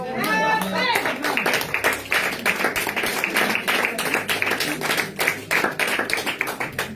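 Church congregation clapping in a steady rhythmic beat, loud and close, starting right after a voice calls out at the beginning and continuing to the end.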